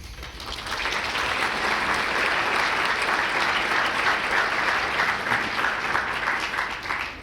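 Audience at a student production awards ceremony breaks into steady applause, a dense, even wash of clapping that builds quickly and holds at a moderate level throughout.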